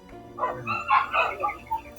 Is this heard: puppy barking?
yes